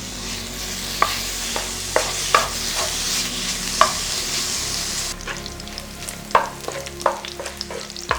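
Pork fries in its own melting fat in a pan, giving a steady sizzle marked by evenly spaced stirring knocks and scrapes, close and with no talk.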